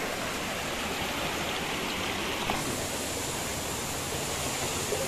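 Rocky river flowing steadily over stones, a dense constant rush of water that stays close and even throughout, with no voices.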